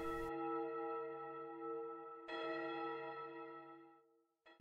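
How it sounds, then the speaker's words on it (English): A church bell tolls in two clear, resonant strikes a couple of seconds apart, each ringing out long and slowly fading, with a third strike beginning just at the end, and no voices. "church bells began to ring to alert people to the"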